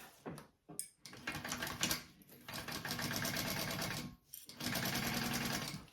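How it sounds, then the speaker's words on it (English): A sewing machine bastes fabric in short bursts of rapid stitching, stopping and starting several times with brief pauses, close and fairly quiet. "I'm gonna baste my exterior on first, and then I will add my lining."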